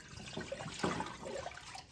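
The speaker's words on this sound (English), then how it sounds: "I'm putting in a quart of water." A quart of water pours into a glass stock pot, a short splashing gush lasting about two seconds, close and fairly soft.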